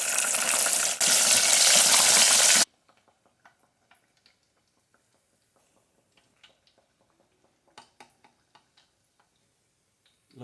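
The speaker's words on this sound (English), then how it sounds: "Look at that fry action. Look at the crisp on those things." Morels coated in keto batter deep-fry in hot oil with a loud, dense, steady sizzle for a couple of seconds. The sizzle cuts off abruptly to near silence broken by faint scattered ticks.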